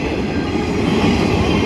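CSX work train led by a rebuilt SD70MAC locomotive rolling through a grade crossing, a loud continuous rumble of railcars with steady wheel clatter, heard close up.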